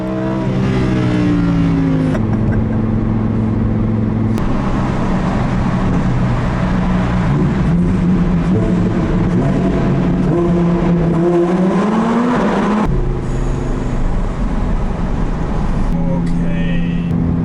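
A Lamborghini Huracán Performante accelerates hard, its engine climbing loudly through rising revs with sharp drops at gear changes, close and dominant throughout.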